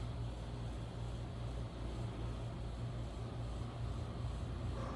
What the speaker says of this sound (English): And the neighbor's AC just kicked on